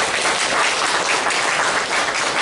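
A church congregation at a Sunday worship service applauds to welcome new members, a dense, even roar of clapping that holds steady throughout without talk.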